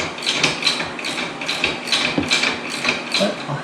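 Ratchet wrench tightening nuts on a Promount Flex2 snow plow mount for a Maverick X3 XMR Turbo R side-by-side, a steady run of rapid ratcheting clicks in repeated bursts, close and fairly loud with no talking.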